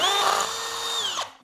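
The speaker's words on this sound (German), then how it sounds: "Und dann hier die zwei Löcher bohren mit dem Bohrer aus der Easy DIY Box." An electric drill from a DIY kit whines steadily as it bores holes into a wall, loud and close for over a second before winding down abruptly at the end.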